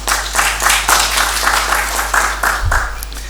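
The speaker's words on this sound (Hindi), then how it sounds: "इनके लिए तालियाँ होनी चाहिए थोड़ी सी" An audience applauds at a bilingual poetry session in Peshawar marking China's 75th National Day. Loud, full clapping swells in rhythmic pulses over a steady low hum.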